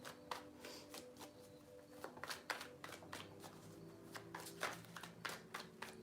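Tarot cards are shuffled by hand in a quiet room, a series of crisp riffling bursts and soft slaps at irregular intervals, close and clear with nothing else audible.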